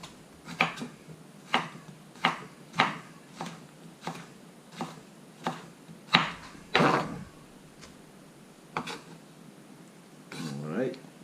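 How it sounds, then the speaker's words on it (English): Knife julienning a jicama on a cutting board, about a dozen crisp chopping taps at an uneven, unhurried pace, close and clear, with a voice talking softly between strokes. "kind of julienne it like this"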